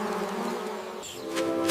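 Bees buzz in a continuous, dense drone as they circle a large honey jar, close and steady throughout with no other sounds.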